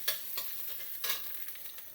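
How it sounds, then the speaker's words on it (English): Grated ginger and chilies frying in a pan for an Indian stuffed tomato dish, a steady close sizzle with a few sharper crackling bursts and stirring scrapes, no voices. "you take the ginger and the grated ginger and the chilies and you put that. Just fry that for a few seconds"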